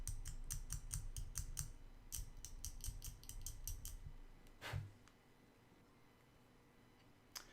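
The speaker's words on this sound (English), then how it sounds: "I can actually start trimming down this section here just to make a slightly less protruding antenna there" Sharp repeated snips trim a plastic part from a model kit, shortening an antenna section, in quick clusters of clicks over the first few seconds, then a single louder cut and near silence.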